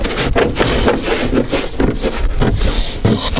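Loud continuous scraping and rubbing as a plastic fender liner is pulled from its slots on a Niva Urban, with rough grinding pulls and brief pops, close up and without speech.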